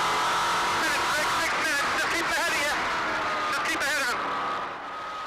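GT race cars from the 2004 British GT Championship run side by side through Woodcote at Silverstone, engines loud and close with rising and falling pitch as they pass, under commentary, before the noise fades away.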